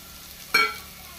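Chopped onion drops into hot vegetable oil in a pan for a Goan mixed veg curry, giving a single sudden sizzling burst that quickly fades to a low hiss, close by.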